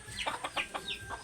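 Labuyo junglefowl giving a quick run of five or six soft, clipped clucks at moderate distance, faint and short against a quiet outdoor background.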